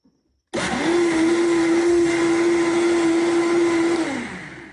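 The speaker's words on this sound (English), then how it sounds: "We're gonna start blending it." A kitchen blender whirs through a batch of coconut curry, starting abruptly after a brief silence and holding a loud, steady high-speed motor whine for several seconds before tailing off.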